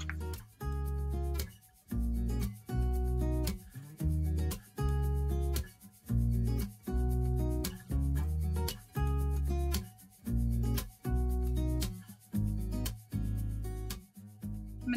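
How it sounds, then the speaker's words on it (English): Torn paper edges are distressed for a bee-themed craft, with repeated rubbing strokes about a second apart in a steady rhythm and no voices. "I'm just going to go around the torn edges just to give it some distressing along each of the papers."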